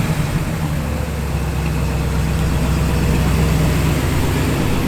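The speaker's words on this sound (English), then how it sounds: "Give it a little rev, Nathan." Engine of a 1936 Plymouth Humpback Sedan running steadily and close, a low rumble that swells slightly toward the end as the throttle is nudged.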